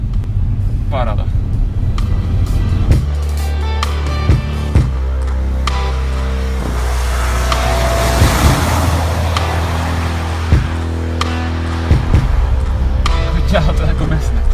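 An Audi A4 3.0 TDI quattro diesel accelerating on the road, its engine a steady low rumble with road and wind roar inside the cabin, plus a few knocks and thumps; someone talks over it.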